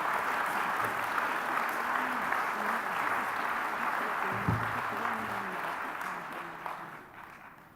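Warm audience applause at a nurse award ceremony, a steady wash of many hands clapping in a hall that slowly tapers off toward the end, with a few louder knocks and faint voices mixed in.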